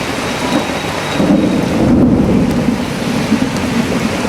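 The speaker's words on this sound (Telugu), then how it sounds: "భారీ వర్షం కురుస్తుంది" Heavy rain pouring during a thunderstorm in Hyderabad: a loud, dense, continuous hiss of rainfall with a deep rolling thunder swelling in the middle, close and enveloping, no voices.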